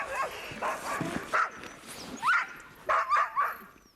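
Sled dogs bark, yip and whine in excited, overlapping bursts as their food of dog food, oils and bone meal is prepared; the calls come in short clusters at moderate distance, with a few sharper yelps standing out.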